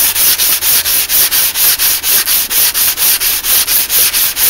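A belt grinder runs a Scotch-Brite finishing belt across the flat side of a knife blade, giving a loud, steady abrasive hiss that pulses in a quick regular rhythm with each pass, heard alone.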